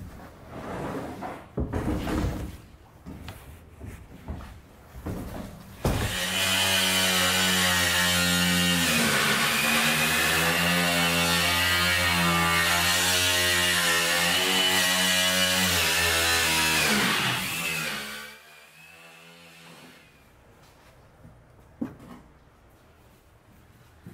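An angle grinder cuts into an IBC tote for an aquaponics build, a loud sustained whine lasting about twelve seconds after a few clanks, then winding down into quieter handling noises.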